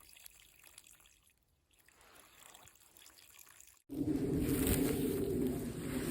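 Mountain spring water trickling beside a campsite on North Fork Mountain Trail in Monongahela National Forest, faint at first, then a sudden louder steady splashing rush when the water is approached closely.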